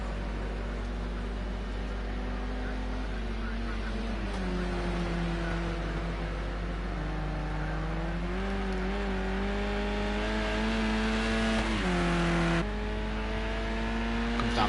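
Race cars lap Donington Park National at nightfall in a feature race, a steady engine drone rising and falling in pitch as cars accelerate through the corners, fairly distant and even, with a commentator speaking over it.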